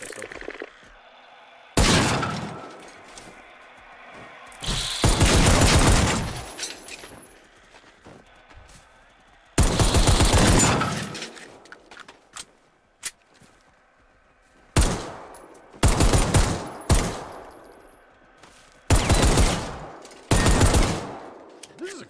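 Pistol gunfire in the video game Generation Zero rings out in loud bursts of rapid shots separated by quiet gaps, with several clustered volleys toward the end.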